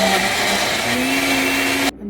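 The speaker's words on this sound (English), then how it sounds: "Go back to the trusty old blender." A blender pulses sofrito vegetables with a loud, continuous whirring motor roar that stops abruptly near the end, leaving brief quiet.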